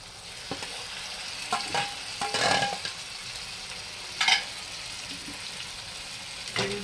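Mashed roasted eggplant for Marathi-style baingan bharta being sautéed in a pan: a steady sizzle broken by several scraping stirs of a spatula, close and fairly loud, no talking.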